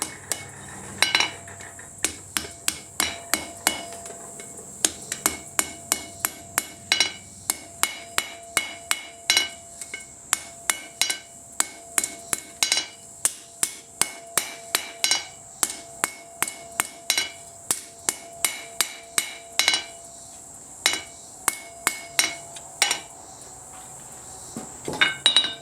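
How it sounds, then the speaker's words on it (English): A hammer strikes metal again and again, tapping the tang of a Higo no Kami style friction folder knife back into line, with bright ringing blows in rapid bursts and brief pauses. "Then I hammer it back down so everything lines up right."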